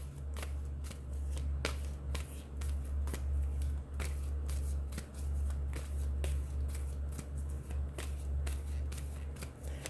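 Tarot cards are shuffled in quick, crisp riffles and flicks, a close, steady run of papery snaps over a low hum with no talk.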